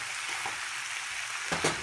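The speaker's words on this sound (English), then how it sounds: "we're going to go ahead and saute this" German noodles with vegetables sauté in a pan over medium heat, giving a steady close sizzle with a couple of brief stirring scrapes near the end, no talking.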